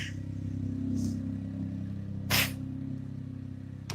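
A Smart car's small engine idles steadily with a low, buzzy rumble like a dirt bike, rising briefly in the middle, with a short hissy burst near the end.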